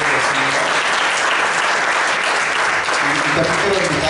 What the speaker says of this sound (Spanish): me gustaría que le diéramos un fuerte aplauso a nuestro hermano Katari